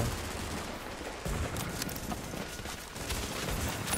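Video game gunfire crackles in dense, rapid bursts, overlapping shots forming a continuous fusillade at moderate loudness throughout.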